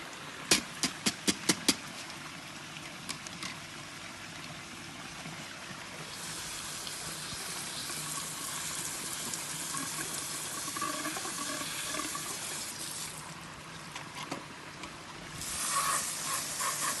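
Running water rinsing out a pool skimmer basket, a steady close splashing hiss that swells louder toward the end, preceded by a few sharp plastic clicks.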